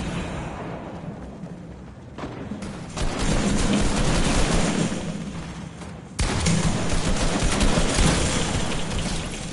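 Dense bursts of video game gunfire roar continuously, swelling louder partway through, with heavy booming blasts layered over the rapid shots.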